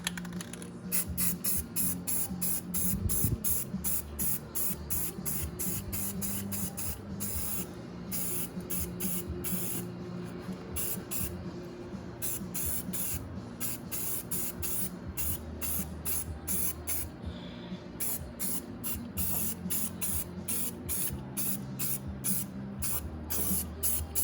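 Rattle-can primer sprayed onto 2009 KTM RC8 motorcycle parts, a steady close hiss in long continuous bursts broken by brief pauses, loud and unaccompanied.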